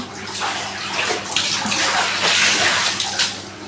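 Laundry is washed by hand in a tub of water, with continuous close sloshing, swishing and splashing as clothes are worked through the water, steady and unbroken.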